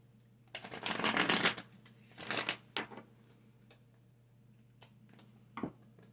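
Kali oracle cards are riffled and shuffled in a few quick bursts, close by, with brief pauses and a soft final snap.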